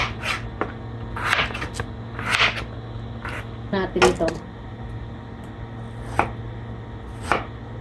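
A knife peels a winter melon with repeated scraping and slashing strokes, close and crisp, some in quick clusters, while a person talks throughout.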